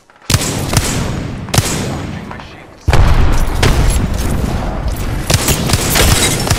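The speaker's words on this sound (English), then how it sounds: "The enemies are shooting at me." Enemy gunfire booms in an online shooter video game, several sharp blasts and bursts of rapid shots breaking over a dense, loud battle mix, with a player's voice talking in between.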